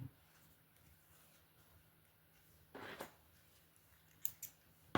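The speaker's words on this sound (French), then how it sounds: "je vais le couper parce que ça m'embête de sauter comme ça" Small scissors snip embroidery thread on the back of a stitched canvas, with a few quick, crisp cuts spread across an otherwise quiet moment, close and fairly faint.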